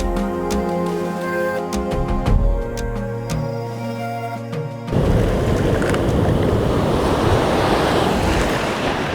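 Ocean water swirls and washes around coastal rocks on a colourful morning. A quieter, steadier stretch gives way midway to a loud, continuous broadband rush of surf and churning water.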